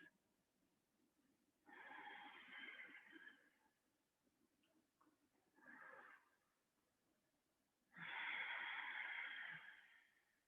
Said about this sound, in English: You may hear me breathing, but I'm still breathing through my nose.